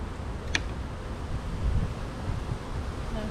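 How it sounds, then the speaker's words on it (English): Outdoor wind blows steadily against the microphone as a low, even rumble near a honey bee swarm capture, with a brief faint tick early on and no speech. "It's so windy."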